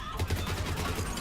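Rapid burst of gunfire from a Striker weapon in the video game Mass Effect 3, a quick stuttering volley of shots up close with someone talking underneath.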